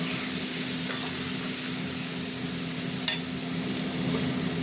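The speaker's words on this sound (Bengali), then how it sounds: "এবার মশলাটা কষা হবে" Spice masala with coriander powder and a little sugar frying in oil in a pan, a continuous close hissing sizzle with one brief sharp clink near the end, no speech.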